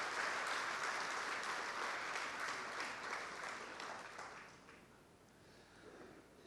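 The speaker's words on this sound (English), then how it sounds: "I think we need a big round of applause for" Audience applause at a business presentation, steady clapping from a large crowd that holds for about four seconds and then tapers off to a lighter patter.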